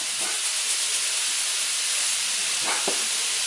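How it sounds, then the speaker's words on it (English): Vegetable filling for mini stuffed peppers, seasoned with salt and pepper, sautes in a pan with a steady broadband hiss and sizzle throughout, plus a couple of brief clinks near the end, with no talking. "we're going to let this saute all together here for about 3 to 5 minutes"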